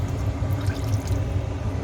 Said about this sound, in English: Then the next thing I think we're supposed to do is add water.